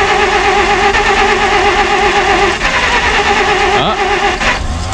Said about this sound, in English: Oh, got a little backfire.